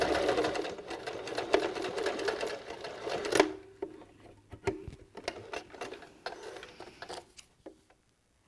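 Sewing machine stitching a fleece beanie, a close rapid mechanical chatter that runs steadily, then breaks into short bursts and pauses before stopping.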